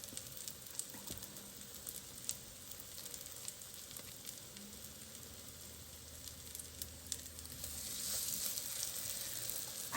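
Potato pancakes made from leftover mashed potatoes fry in a hot pan with a steady, close sizzle and crackle, growing a little louder toward the end, with no voices.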